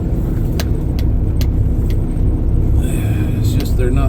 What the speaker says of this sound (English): We got to drive through this little water bath here.